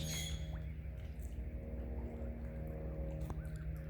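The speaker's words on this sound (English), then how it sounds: "now we have two crows plucking food off the surface of the water." Crows caw at a lake, with a few harsh calls standing out over a steady low hum and background noise, fairly faint and somewhat distant.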